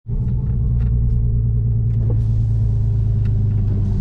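Loud, steady low rumble from a Volkswagen Passat engine idling close by, a deep continuous drone with faint higher mechanical ticks over it and no voices.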